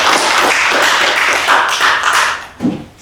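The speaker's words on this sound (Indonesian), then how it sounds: "Kita beri aplaus untuk Dimas" Applause for a student named Dimas in a university lecture class, a dense burst of many hands clapping that runs steadily and fades out near the end, with a single thump at the finish.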